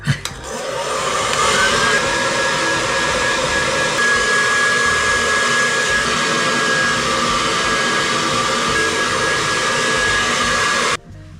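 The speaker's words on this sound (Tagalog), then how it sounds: "mag-shift kayo sa cool ng dryer, saka nyo i-set up yung volume ng hair." A handheld hair dryer runs on its cool setting, a loud, close, steady whooshing drone with a thin whine that stays constant for about eleven seconds before stopping abruptly.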